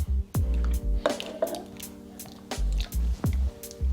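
Canned diced tomatoes slop wetly into a crockpot in a few squishy, dripping plops with scraping from the can, close and fairly loud.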